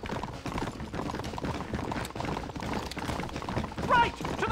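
A horse galloping in the Red Dead Redemption video game, a steady quick run of hoofbeats close by over a busy game soundscape, with a brief whinny near the end.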